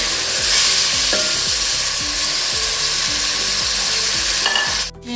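Chopped tomatoes and green chillies hit oil while keema biryani fries, giving a loud, steady sizzle with scraping stirring strokes throughout.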